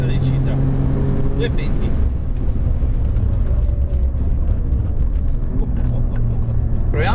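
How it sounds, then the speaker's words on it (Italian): An Alfa Romeo Giulia Quadrifoglio with 600 hp braking hard on asphalt; loud, steady road and engine rumble runs throughout, with someone talking over it. "Proviamo a fare un'altra frenata decisa."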